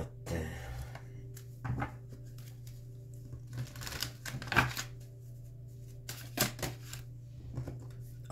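Tarot cards shuffled by hand in several short crisp bursts, fairly close and moderately quiet, with a steady low hum underneath and no talking.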